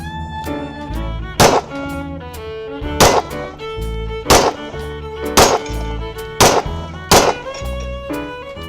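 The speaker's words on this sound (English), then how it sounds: "Okay, now it's shooting okay." German Luger pistol firing on a shooting range: six sharp, loud gunshots at irregular intervals over a steady background of music-like tonal sound, each report a broadband crack with a short tail.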